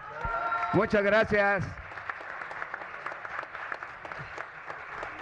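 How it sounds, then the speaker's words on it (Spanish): An audience at a ceremony honouring artistic careers applauds with steady, moderately loud clapping, while a voice speaks briefly over the start. "Los dejo, que aplaudan."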